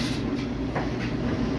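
A train moving in Minecraft Bedrock (Pocket Edition): a steady, close, low rolling rumble with faint rhythmic rattling that continues unbroken for the whole moment, with no voices.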